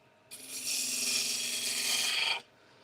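Wood is cut on a small lathe, producing a single loud rasping, shearing hiss that starts abruptly, holds steady for about two seconds, then stops cleanly.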